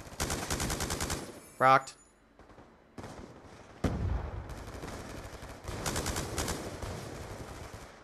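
Rapid automatic gunfire in the multiplayer shooter Black Ops 2 Gun Game mode, loud bursts opening the clip, a sharp shot near the middle and renewed rattling fire toward the end, with a brief spoken word in between.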